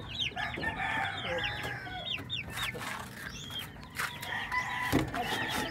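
A flock of two-week-old Shamo Asil and Rhode Island Red crossbred chicks cheeps and clucks steadily, with many overlapping chirps close by and soft low rustling underneath.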